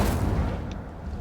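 Incendio fire spell cast in the video game Hogwarts Legacy, a loud, deep whooshing burst that fades over about a second, with no speech.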